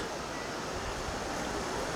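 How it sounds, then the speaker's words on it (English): A small waterfall on the Lake Superior shore hisses in a steady, dense roar of rushing water, close and unbroken, with no voices. "there's a small sort of a waterfall that you can walk right up to"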